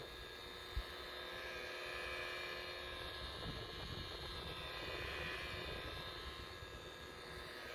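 A DeWalt DWP849X buffer runs slowly, at about 600 to 700 rpm, polishing the hull of a 21-foot Sea Ray boat. It gives a continuous, even motor whir with a faint tonal hum, close and steady, and one short knock near the start.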